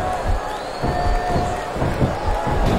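Capacity crowd noise from the WWE SmackDown vs RAW 2007 wrestling game, a steady roar of cheering with small whoops rising and falling, blended with a faint tonal synth line in the background.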